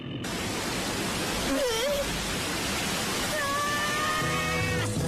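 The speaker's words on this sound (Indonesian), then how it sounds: "Air terjun." Cartoon waterfall sound effect: a steady, loud rush of broad noise fills the whole stretch, with a few brief squeaky tones and a short whistle-like effect layered on top.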